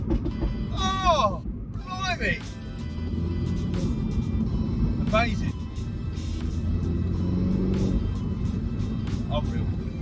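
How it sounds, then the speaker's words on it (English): A Mini John Cooper Works F56 with a Pro Exhaust accelerates hard in second gear, giving a loud, steady engine rumble throughout while excited voices exclaim over it. "Here we go. Second gear Pro Exhaust."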